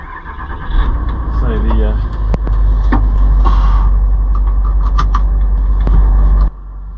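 A Range Rover L322 4.4 TDV8 with suspension trouble pulls away, its low diesel rumble steady and close from inside the cabin, and someone speaks over it.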